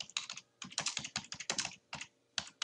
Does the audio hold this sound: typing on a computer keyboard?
yes